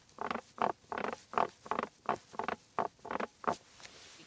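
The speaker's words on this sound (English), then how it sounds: "we actually have developed a new squeak and creak, and that's here in the center armrest" A 2025 Toyota Camry's center armrest squeaks and creaks repeatedly in an even rhythm, about a dozen close, distinct squeaks pressed out one after another with no talking.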